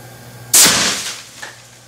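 A homemade PVC air cannon fires only air, with a water bottle at the end, in a garage. One sudden loud blast is heard up close, followed by a short fading rush and a small knock.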